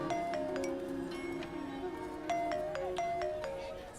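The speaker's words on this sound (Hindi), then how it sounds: "सोनल का फोन आ रहा है।" A mobile phone ringtone plays a repeating pattern of bright electronic beeps in short bursts, fairly quiet and close, with low background noise.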